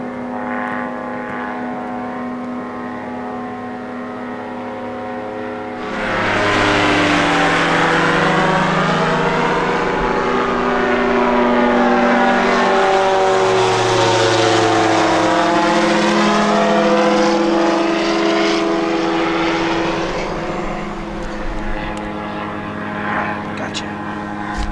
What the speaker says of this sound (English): The airplanes are flying over too.